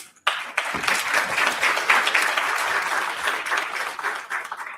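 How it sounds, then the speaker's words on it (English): A conference audience applauds loudly and steadily, dense clapping sustained for several seconds after a brief quiet start. "I'd like a big round of applause for you"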